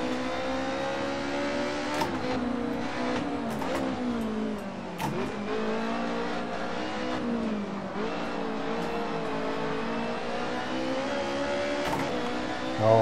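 A BMW M3 E30 race car engine in Assetto Corsa drones steadily throughout, its pitch rising and falling with gear shifts, a continuous loud whine with no talking.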